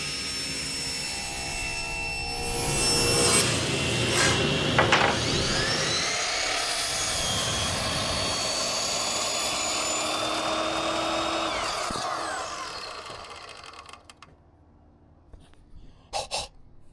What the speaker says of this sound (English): Let's cut some face frames.